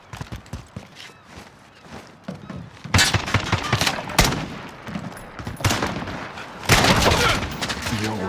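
Video game gunfire, bursts of loud shots that start lighter and then come in heavy volleys, with short gaps between the bursts.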